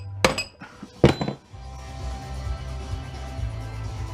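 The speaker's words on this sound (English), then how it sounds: "I've always liked to just go at them with a hammer" A hammer strikes a fluorescent light fixture being broken for scrap metal, two sharp metallic clanks with brief rattling after each, close and loud, then a low steady hum continues.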